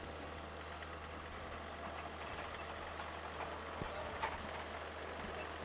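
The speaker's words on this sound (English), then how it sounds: "Sounds like a tractor." A tractor engine drones beside a cricket ground during a T20 international match in Budapest. The faint, continuous low hum holds steady throughout, with no talking in the clip.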